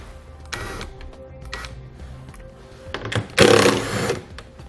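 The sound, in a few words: 10mm socket wrench removing taillight bolts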